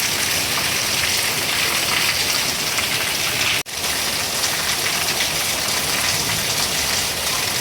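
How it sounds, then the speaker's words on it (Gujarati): Heavy rain pours down in a dense, constant hiss close by, holding steady apart from one momentary dropout halfway through. "ફૂલ વરસાદ ચાલુ થઈ ગયો"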